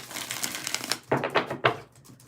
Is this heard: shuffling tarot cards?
yes